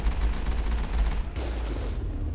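Rapid sustained gunfire from the Mako vehicle in the Mass Effect video game, a dense, loud burst that rattles without pause before easing slightly near the end, with no talk over it.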